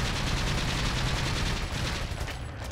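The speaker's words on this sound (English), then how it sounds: "I'll just continue to riddle him with bullets." Rapid video game gunfire from Resident Evil 4 rattles in a dense, continuous burst of shots, fairly quiet in level and heard alone.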